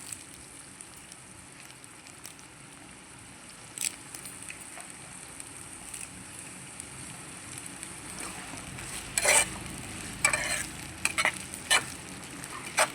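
Curry leaves dropped into a frying brinjal and tomato curry, a soft low sizzle under the whole stretch, rising to sharper spluttering crackles near the end as the leaves hit the hot oil.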